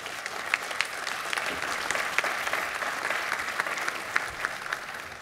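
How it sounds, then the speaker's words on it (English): Audience gives panelists a round of applause at a conference panel, a fairly quiet, even wash of clapping with a few sharper individual claps standing out, continuing for several seconds without talk. "If you can give them a warm round of applause."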